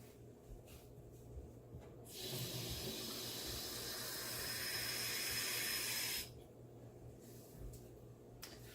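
Tap water runs into a cup in a home kitchen during baking, a steady hissing pour of about four seconds that starts and stops abruptly, with quiet room tone before and after.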